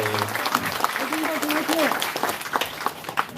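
A crowd at a local party members' rally applauds to welcome a speaker, even clapping running throughout while a voice speaks over it in the middle.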